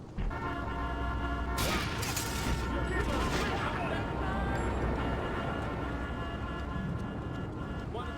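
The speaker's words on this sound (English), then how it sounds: "I shot the passenger through the windshield." Video game gunfire through a car windshield: a sustained rapid volley of shots over engine and traffic noise with a horn-like tone, loud and dense throughout, with talking underneath.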